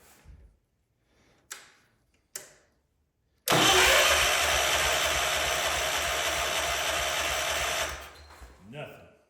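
A car engine with no fuel getting to the pump cranks over without catching, a loud steady churning roll that runs for about four and a half seconds. A few short clanks come before it and a brief rustle follows.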